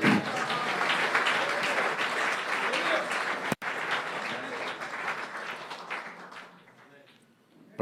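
A church congregation applauds the Lord with sustained, dense clapping that fills the room, dropping out for an instant midway, then thinning and fading toward the end. Voices call out beneath it.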